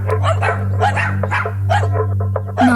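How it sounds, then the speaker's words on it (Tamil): A dog barks repeatedly nearby in a quick run of sharp barks over a steady low hum. "நாய் சவுண்ட் பக்கத்துல கேக்குதுமா."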